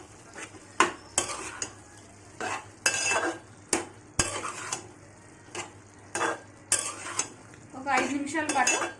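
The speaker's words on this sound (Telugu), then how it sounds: "అల్లం వెల్లిపాయ పేస్టు, గరం మసాలా వేసుకోవాలి. వేసుకొని బాగా కలుపుకోవాలి" A spoon stirs mixed vegetable curry in a pot after ginger-garlic paste and garam masala go in, with repeated sharp scrapes and clinks against the metal spaced a second or so apart, a light sizzle between them, close and alone.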